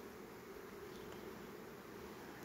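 A steady, low buzz of honeybees at a hive hums continuously and faintly, close by, with no voices.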